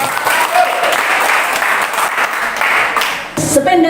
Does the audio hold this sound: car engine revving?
no